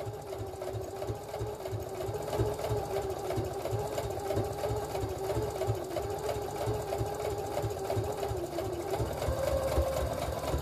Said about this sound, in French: vous allez coudre au plus près de la fermeture, au plus près du bord.